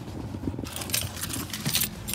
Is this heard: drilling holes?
no